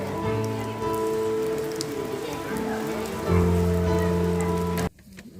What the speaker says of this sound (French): Des fois, il pleut.